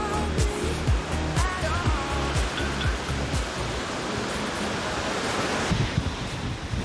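Ocean surf at a beach in Salvador, Brazil, where a man throws a fishing net, washes in a steady broad roar with rhythmic low thuds of breaking waves, loud and close, without voices.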